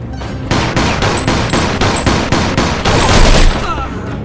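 Enemies in the video game Mafia 2 pour loud, continuous automatic gunfire, with rapid rhythmic bursts filling several seconds and a heavier volley near the end, then falling quiet.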